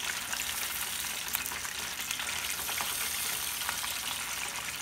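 Fish fillets fry in clean, fresh oil with a dense, steady crackling sizzle and occasional brighter pops, close and unbroken with no voices.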